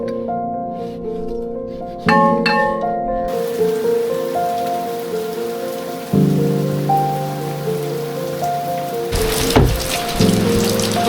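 Steady rain patters on a sailboat in the Exumas throughout, mixed with sustained tonal sounds that shift pitch a few times.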